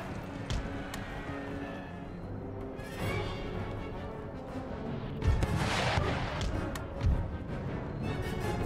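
Musket volleys and scattered shots from soldiers in an Empire Total War battle, a dull continuous rumble with a couple of heavier cracks standing out near the end.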